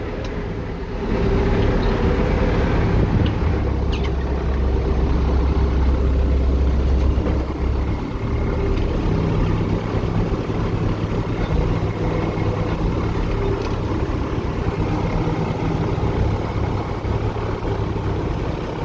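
Tractor engine running steadily while sowing wheat in a field, a continuous loud drone with a heavier low rumble over the first several seconds, then an even hum with no talk.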